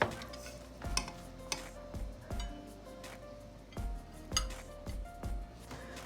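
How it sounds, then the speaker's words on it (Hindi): Mutton pulao is served out of a pressure cooker, a spoon giving repeated metallic clinks and scrapes against the pot at a fairly regular pace, close and fairly quiet. "अब डिश आउट करते हैं।"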